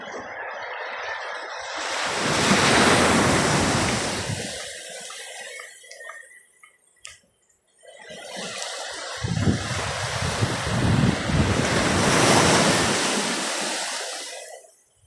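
Two big ocean waves surge and crash on the shore in rough weather, in broad roaring washes, separated by a brief quieter lull with faint water trickling.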